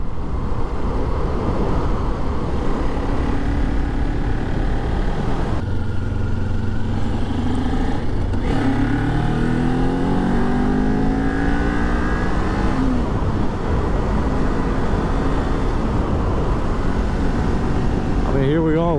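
A 2022 Kawasaki Ninja 400 motorcycle pulls up a steep hill in fifth gear, its engine droning steadily and rising gradually in pitch under heavy wind rush, with a rider talking over it.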